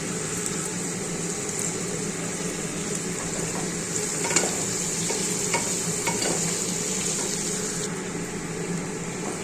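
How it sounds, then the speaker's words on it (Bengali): A steady sizzle of cashews frying with a spatula stirring and scraping through the pan, continuous and fairly loud, no voices. "একটু কাজুগুলো দিয়ে দিচ্ছি, কাজুগুলো ভাজা ভাজা করছি"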